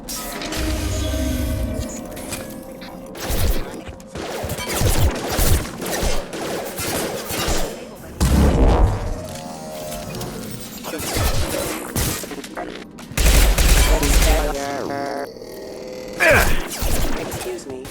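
Gunfire in the sci-fi shooter Mass Effect, sharp bursts and crashing impacts firing in clusters through a busy battle mix with music, loud and close, with occasional grunts.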